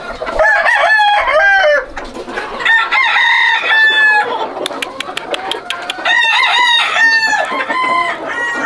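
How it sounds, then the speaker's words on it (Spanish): A rooster crows loudly and close several times in a row, with clucking between the crows and a brief burst of sharp repeated calls near the middle. "el mejor gallo del mundo, se podría decir"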